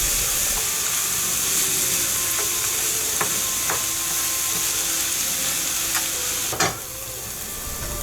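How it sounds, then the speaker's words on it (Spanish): Chopped onion and garlic frying in a little oil in a hot pan, a steady close hiss with occasional stirring taps and a louder scrape near the end, no talk. "En una sartén caliente con un poco de aceite agregaremos la cebolla picada y el ajo picado"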